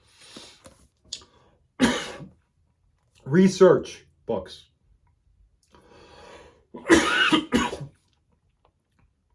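Several rough coughs and throat-clearing bursts, close and fairly loud, spaced between brief moments of speech.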